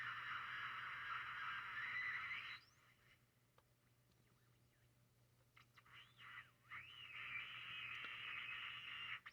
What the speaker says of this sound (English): I hear a hiss.